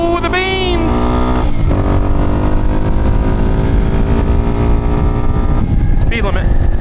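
A motorcycle engine revs loudly while riding, its pitch climbing and dropping through gear changes with steady road and wind roar, heard close up.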